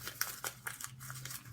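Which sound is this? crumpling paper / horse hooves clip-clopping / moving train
crumpling paper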